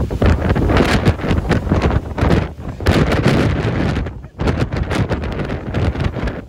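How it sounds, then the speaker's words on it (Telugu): Strong wind with rain on a hilltop near Araku buffets the microphone in loud, continuous roaring gusts, with a brief lull near the end before the blustering returns. "కొండపైన వర్షంతో పాటు విపరీతమైన గాలి"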